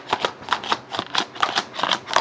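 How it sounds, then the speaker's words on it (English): A loose DVD rattles inside its plastic case as the case is shaken, making rapid, crisp clicks in irregular bursts, close and fairly quiet, with no voices. "I'm guessing the DVD is not on the thing because it sounds very loose."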